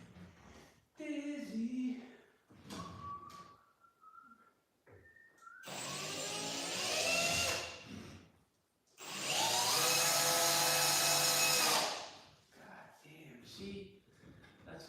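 A drill drives screws into an interior door in two loud, sustained whirring bursts that rise in pitch, with someone speaking briefly between and around them.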